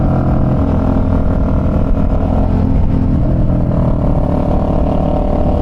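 A Suzuki SV650 motorcycle pulls hard in second gear, its engine a dense, continuous rumble at steady loudness throughout, heard close up from the rider's position with wind noise and no speech.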